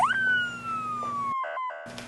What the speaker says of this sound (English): Police sirens in the distance.